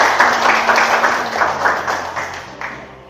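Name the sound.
children clapping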